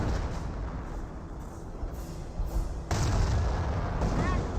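Gunfire and artillery booms from the World War II strategy game Company of Heroes rumble in dense, overlapping bursts, with a sharper burst near the end.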